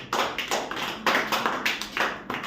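Schoolchildren clapping together in a classroom, a quick rhythmic burst of claps in even repeated waves, fairly faint and unaccompanied by talk.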